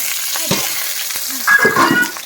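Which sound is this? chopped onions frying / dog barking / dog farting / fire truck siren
chopped onions frying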